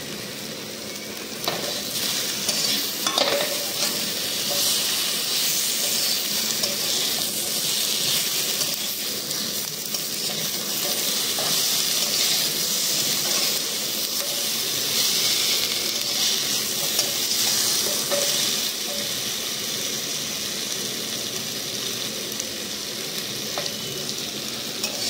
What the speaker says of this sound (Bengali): তো আলুগুলো অ্যাড করে দেওয়া হয়েছে। হ্যাঁ, এবার ভালো করে নেড়ে নেবো।